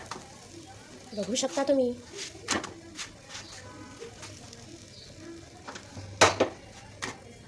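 A roti roasting folded on a hot pan: soft sizzle under a woman's speech in Marathi, with a few sharp clinks and scrapes of a utensil against the pan.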